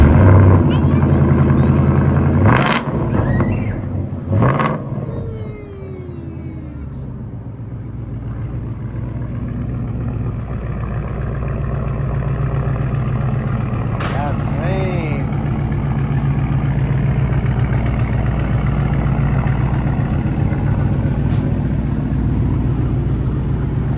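A Ford Coyote 5.0 V8 with a new true dual exhaust fires up with a sharp burst and settles into a deep, steady rumbling idle, close by, with a few brief clicks and noises around it.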